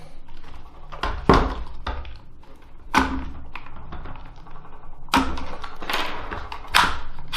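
Takedown pins are pulled from an IWI X95 Tavor rifle, heard as a few sharp metallic clicks and taps spaced irregularly against quiet handling noise, close up.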